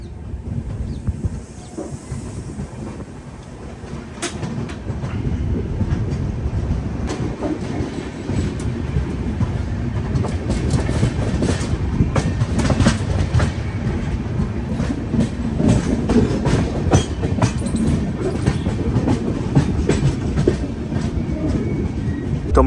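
The Ajmer to Durg Weekly Express rolls steadily along the rails, a loud continuous rumble inside the coach with rhythmic clickety-clack over the joints and occasional hiss.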